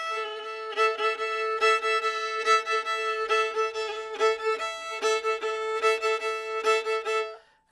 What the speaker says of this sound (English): shuffle stroke pattern, it sounds like this.